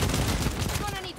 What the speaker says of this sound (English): I got some firecrackers now.